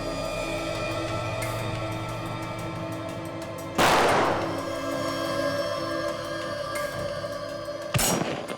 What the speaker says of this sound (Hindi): गोलियां तो चली है